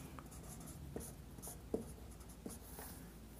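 A pen or chalk writes out a class 9 maths triangle construction solution, faint scratchy strokes with a few sharper taps, quiet and close with no talk.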